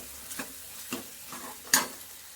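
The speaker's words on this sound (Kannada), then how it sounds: "ಬೆಂಡೆಕಾಯಿ ಪಲ್ಯಕ್ಕೆ ಒಗ್ಗರಣೆ ಹಾಕ್ತಾ ಇದ್ದೀನಿ." Oil tempering for okra palya crackles quietly in a pan, giving a few soft pops and a sharper spatter, with faint stirring and no voices.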